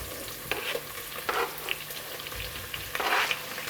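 Onions dropped into a pan of frying garlic for an Indian dish, giving a steady close sizzle with bursts of louder crackle and stirring, and no voices.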